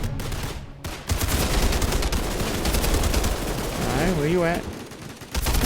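Rapid bursts of Lancer rifle gunfire from a shooter video game rattle loudly and continuously, layered with other game effects and a voice speaking over the shooting.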